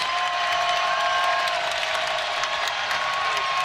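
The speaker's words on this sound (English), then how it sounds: "You can hear the Siegel Center crowd." Basketball crowd at the Siegel Center during a VCU versus George Mason game, steady loud cheering and applause with many fans on their feet, a dense continuous roar through the whole stretch.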